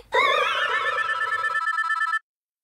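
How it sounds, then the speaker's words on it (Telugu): A phone rings with an incoming call, a warbling electronic tone that plays steadily for about two seconds, loud and close, then stops abruptly. "అమ్మేంటి ఈ టైంకి కాల్ చేస్తుంది?"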